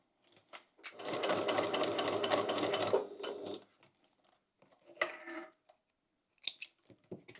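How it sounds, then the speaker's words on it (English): Sewing machine stitching down the edge of a credit card pocket on a relaxed crossbody bag, running steadily for about two seconds, then a shorter burst of stitching and a few light handling clicks afterward. "we want to sew down the edge there, and then sew down here"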